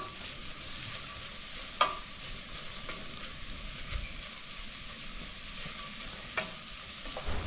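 Onions and shallots stirred in melted butter in a pan give a soft, steady sizzle with occasional spoon scrapes and taps, quiet and close with no talking.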